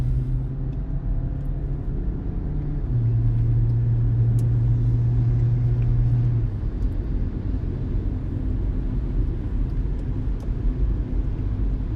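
A car's engine rumbles steadily from inside the vehicle while driving during an Oklahoma and Kansas storm chase, with a low sustained drone and a brief steady tonal hum partway through, and no talking.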